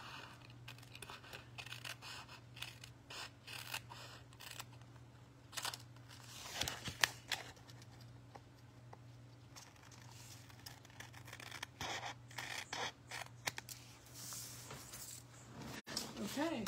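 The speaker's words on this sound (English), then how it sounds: "And then you're just gonna trim it away. And if you trim a little of the envelope," Scissors snip and trim paper from an envelope for a stamped Christmas wreath card, a string of short close cuts and rustles under quiet speech.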